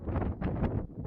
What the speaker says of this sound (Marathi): आणि भयानक वारं सुटलंय